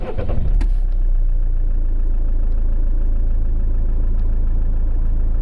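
A Citroen C5 X7 with a DW10CTED4 diesel engine fires up with a brief cranking burst, then settles into a steady, close, low idle rumble that holds evenly to the end.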